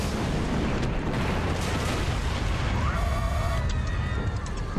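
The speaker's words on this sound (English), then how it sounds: "hit with a missile barrage?" A missile barrage pounds the ground in the giant-monster game Kaiju-A-GoGo, dense rumbling explosions blending into a continuous loud roar with crackling bursts throughout.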